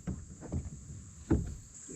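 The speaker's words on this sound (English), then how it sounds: "knock on the side of your boat with your paddle" A kayak paddle knocking against the side of the boat on a creek: a few dull, low thumps, with a stronger knock near the end over faint wind noise.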